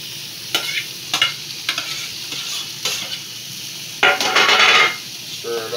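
Sausage sizzles and fries in a pan for a soul food dish, with a steady hiss broken by several sharp clacks and scrapes of stirring, then a louder burst of sizzle as the meat is turned.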